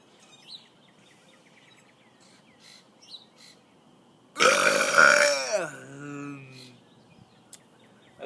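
A loud, long human burp rolls out and falls in pitch, coming after a stretch of quiet background with faint chirps.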